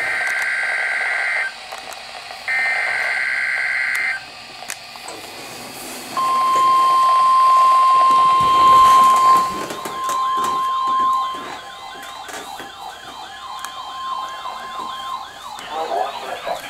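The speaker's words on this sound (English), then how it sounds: "This is kind of why I don't like hearing just 1050 hertz tones on certain alerts." An Emergency Alert System broadcast of flood alerts: two buzzy data bursts come first, then a long, steady 1050 hertz alert tone, later joined by a fast, warbling siren-like tone.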